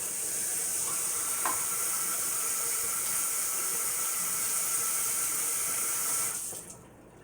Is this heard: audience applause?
no